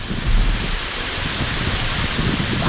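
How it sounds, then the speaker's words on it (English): Steady, loud broadband hiss of rain pouring down during a thunderstorm on a lake while fishing, with low rumbling beneath, continuous and close, no talking. "It's raining."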